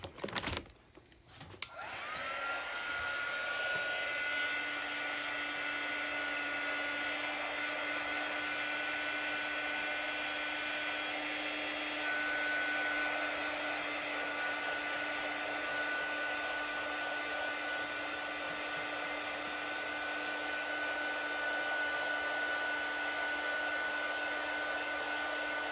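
A dryer blows steadily and loudly for nearly the whole stretch, drying chalk paint on a custom shirt, starting after a brief clatter and holding an even whir alone with no talk.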